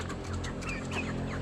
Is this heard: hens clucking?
yes